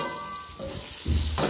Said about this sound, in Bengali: পটলটাকে ভালো করে ভেজে নেব